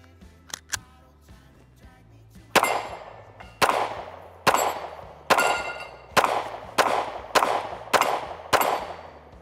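Rapid pistol fire from a Canik Mete MC9L, each sharp crack followed by a ringing clang off a steel plate, about nine evenly spaced shots after a couple of faint clicks, loud and close with no talk.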